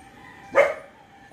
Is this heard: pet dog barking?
yes